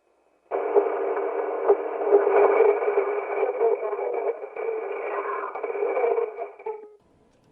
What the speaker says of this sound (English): that was actually an EVP that we didn't hear at the time until we played the tape back later